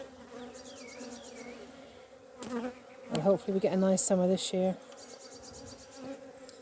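Honey bees hum softly around hives in an apiary in Ireland, a steady low buzz with insects passing near, while a person talks over the middle stretch.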